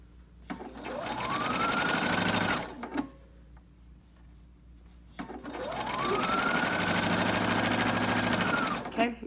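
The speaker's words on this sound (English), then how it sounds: "I'm going to go ahead and backstitch." Sewing machine stitching a Cricut Maker dust cover in two long runs, each starting with a rising whir that holds steady and then stops, with a short quiet pause between runs. The machine is close and loud and no talk is heard over it.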